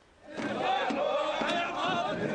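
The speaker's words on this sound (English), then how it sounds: "Half the class of police recruits act as angry villagers." Police recruits playing angry villagers shout together in a crowd control drill, a loud clamor of overlapping yelling voices that rises quickly and stays sustained.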